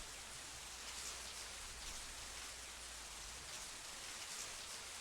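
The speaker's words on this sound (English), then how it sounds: "Are we going to keep listening to the rain, though, when we go into Remake this time?" Steady, even rain hiss from the Resident Evil 3 video game, a continuous broadband wash of falling drops with no voices over it.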